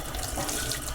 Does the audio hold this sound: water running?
yes